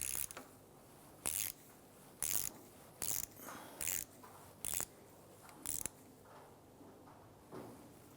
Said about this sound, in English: we're going to use our 15mm socket to loosen this nut